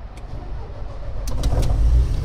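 A Liebherr LTM 1160-5.1 mobile crane's engine cranks and starts, a low rumbling that builds in loudness over a couple of seconds, with a few clicks near the start.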